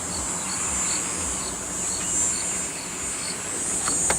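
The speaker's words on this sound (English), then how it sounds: "Sounds like we have some cicadas that are active still in the warmth." Cicadas keep up a steady, high-pitched buzz in the warmth at sunset in the African bush, with faint bird chirps and insect sounds in the background.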